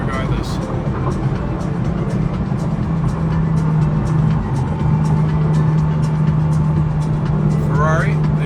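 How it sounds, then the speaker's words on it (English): A Pagani Huayra La Monza Lisa cruises along the I-95 highway, heard from inside as a loud, steady road and engine drone with constant tire rumble and no breaks. "we're just driving on the highway"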